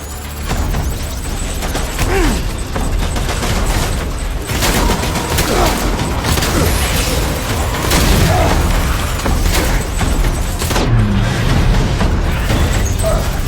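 Sustained gunfire and explosions from a battle in the video game Death Stranding, with dense bursts, booms and rattling volleys filling the whole stretch loudly and continuously.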